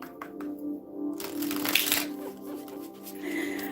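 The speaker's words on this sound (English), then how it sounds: "let me just shuffle a little bit, get that energy cleared out" Tarot cards being shuffled by hand, a papery riffling and flicking that runs steadily through a few seconds, with a faint tonal hum in the background.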